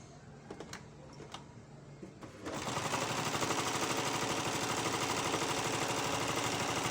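After a few small handling knocks, a sewing machine starts stitching folded pleats on a blouse and keeps running as a loud, steady, rapid mechanical chatter to the end.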